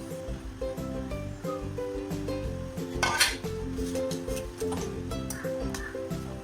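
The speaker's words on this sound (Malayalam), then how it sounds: "എന്നിട്ട് ചൂടാകുന്ന ശർക്കര സിറപ്പിലേക്ക് ഈ പീസാക്കി വെച്ച് ചക്ക ചേർക്കുക." Pieces of jackfruit are stirred into hot jaggery syrup in a pan, with clattering utensil scrapes and clinks close up over a steady background of music.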